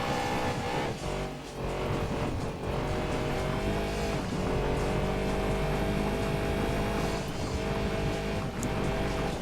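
Rally event cars racing in Gran Turismo 2, led by a Lancia Stratos, with loud, sustained engine whine and revving throughout, plus brief tire squeals and skidding over the steady roar.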